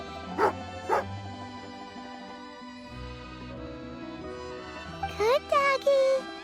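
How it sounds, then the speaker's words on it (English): A dog in the video game Genshin Impact yips twice near the start, then whimpers and barks in a quick cluster toward the end, over soft background game music. "Good doggy."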